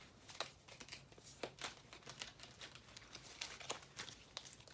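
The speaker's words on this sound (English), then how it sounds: "hopefully this is the last shuffle" A deck of playing cards shuffled by hand during a card game, heard close and fairly quiet as a series of crisp, irregular ruffling snaps and riffles over a low steady background hum, with no talking.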